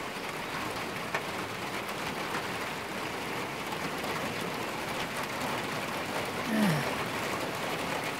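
Heavy morning rain falls steadily in a misty mountain setting, a dense, even hiss of drops on surfaces that holds constant throughout with no pauses.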